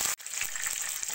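Garlic cloves, ginger, diced onion and tomato fry in hot oil for a beetroot carrot soup, giving a steady, close sizzle with a brief break near the start and faint stirring.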